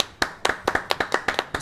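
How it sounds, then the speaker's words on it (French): A few people in a small TV studio audience clap for an arriving guest, sparse, distinct hand claps in an uneven rhythm, close and fairly quiet. "On peut l'applaudir s'il vous plaît."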